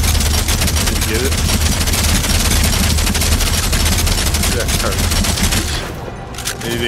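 Rapid bursts of gunfire fill a VR zombie shooter game, loud and dense with scattered shots blending into a steady barrage that eases off at the end.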